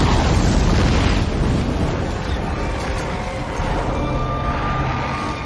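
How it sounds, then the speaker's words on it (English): A detonated explosive in a film sends out a loud, heavy boom that rolls into a long, dense rumble and slowly fades over several seconds with no voices. "Anya immediately detonated an explosive"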